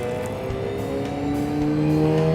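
Vac-Tron HTV vacuum excavator truck idling steadily with its PTO engaged, a close, continuous engine drone with a slight rise in level toward the end.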